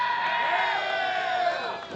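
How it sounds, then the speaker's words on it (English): An Austin wrestling crowd cheers loudly for a wrestler, a dense sustained roar of shouting and whooping voices filling the arena at a steady level for the whole stretch. "And this Austin crowd getting loud for the Wind Dragon"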